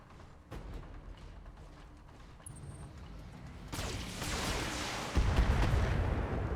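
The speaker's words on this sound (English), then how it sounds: "Gotta be a panther shooting at us." A Panther mech fires at the player in the video game Battletech: muffled booming weapon blasts build in intensity, with a heavier rumbling impact swelling toward the end.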